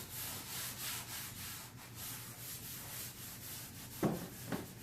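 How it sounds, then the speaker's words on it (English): Wet cloth rubbing stain into a wooden console table, a steady soft scrubbing swish repeating in even strokes, close and quiet, with two small knocks near the end and no voices. "I get a wet cloth and just keep rubbing it in."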